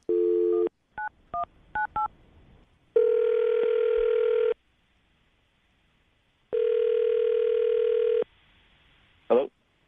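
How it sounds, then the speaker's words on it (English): A steady dial tone, a quick string of keypad beeps, then two long buzzing ring tones separated by a pause, all clear and close. "I'm going to call him right now, see if we can get him on the phone"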